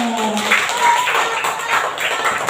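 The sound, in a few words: clapping after a class presentation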